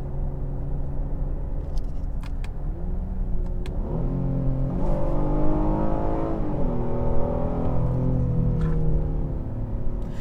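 Acura TLX V6 from 2016 with SH-AWD and ZF transmission, engine revving steadily up through high RPM, a smooth rising drone that climbs and holds, loud and continuous with no talk.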